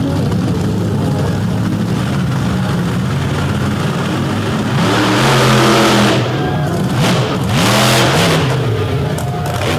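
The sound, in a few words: bullnose Ford race truck launching off the drag strip starting line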